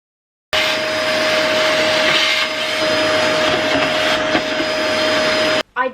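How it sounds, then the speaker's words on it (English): A vacuum cleaner runs in a home during decluttering, switching on abruptly and holding a loud, steady whooshing roar with a fixed motor whine for about five seconds before cutting off. "I'll see if it needs a vacuum."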